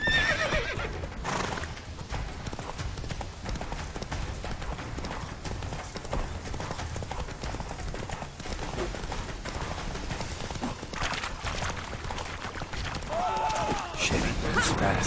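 A horse gallops with steady clip-clopping hooves and lets out a whinny while being ridden in The Witcher 3 video game, loud and continuous over dense game ambience throughout.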